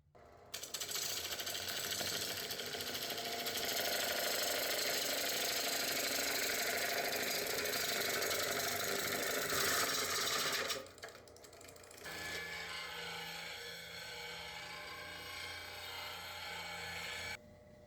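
A wood lathe hollows a large walnut bowl, a loud, steady broadband cutting roar for about ten seconds, then a quieter humming motor spin after the tool lifts away.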